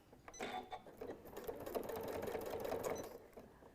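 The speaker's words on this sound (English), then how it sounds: "You're going to be very good at sewing square Velcro patches by the end of this." A sewing machine stitches a square Velcro patch for a stuffed nativity craft, a fast close mechanical chatter that starts, runs steadily for about three seconds, then stops.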